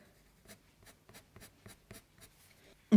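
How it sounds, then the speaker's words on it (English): A white pencil makes a series of quick, soft scratching strokes on black sketchbook paper, evenly spaced and close, ending in a sudden louder knock. "So I'm just going to use my white pencil."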